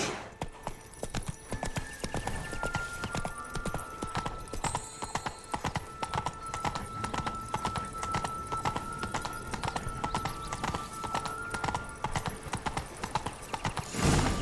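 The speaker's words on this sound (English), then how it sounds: "Whoa there, Roach." A horse's hooves clip-clop steadily on the ground in The Witcher 3, a rapid even gait running at a constant, moderate level for about fourteen seconds, with an occasional faint whinny and a quiet musical tone underneath.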